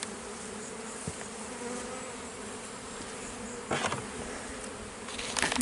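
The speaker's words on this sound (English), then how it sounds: "It will bring all the bees up to this box, and then probably they'll store a bit of this." Honey bees buzz steadily around hive frames in an open box, a dense, even drone heard close up. A few brief knocks and rustles from handling the frames break through, and no one speaks.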